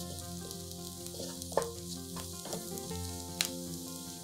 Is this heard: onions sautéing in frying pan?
yes